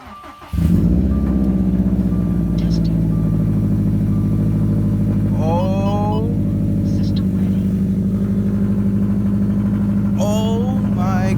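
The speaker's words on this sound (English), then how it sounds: "So now we get to start it. All right, keys in the car with me, clutch is in." A manual-transmission car engine cranks and catches, then settles into a loud, steady rumbling idle that runs without a break, while someone talks briefly now and then over it.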